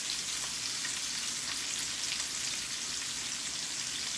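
Apples and onions frying in bacon grease with brown sugar in a pan, a steady dense sizzle that stays even throughout with no talking.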